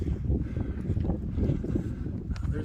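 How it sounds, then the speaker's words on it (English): Wind gusts across an exposed mountain summit on the Appalachian Trail, a low rumbling buffet against the microphone that swells and eases with no voices. "Windy up here."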